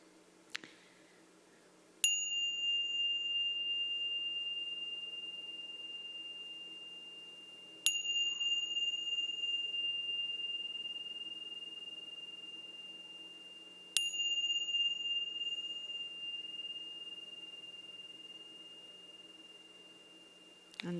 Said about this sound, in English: So now I'm going to invite the bell.